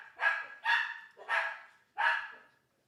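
A dog barks four times in a quick, even series, each bark sharp and mid-distance, with quiet between them.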